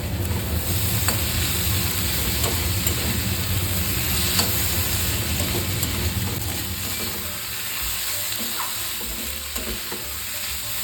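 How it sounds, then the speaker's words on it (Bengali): Mussel curry with ginger-garlic paste and chopped green chillies sizzles steadily in a pan, stirred now and then, a dense continuous frying hiss with occasional soft scrapes and no voices. "ভালোভাবে নাড়িয়ে চাড়িয়ে আমি চচ্চড়িটা এবার করে ফেলবো"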